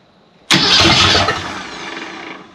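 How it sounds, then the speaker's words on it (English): A Ford Econoline travel wagon van, sitting unused for more than 15 years, fires abruptly after a short quiet lead-in, then runs loud and rough before easing slightly toward the end, with no voices. "Let's turn it over, get some fuel pressure, maybe oil pressure,"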